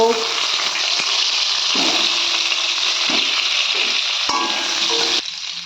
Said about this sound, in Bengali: এই চিংড়ি ভাজা তেলের মধ্যেই আমি কিন্তু এই পটলগুলোকে ভেজে নেব